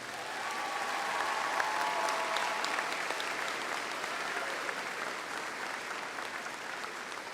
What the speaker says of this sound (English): let's give our choir and band another round of applause